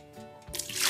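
Bulletproof coffee ingredients are poured into a blender, a short drip that turns into a louder rushing, splashing pour of liquid.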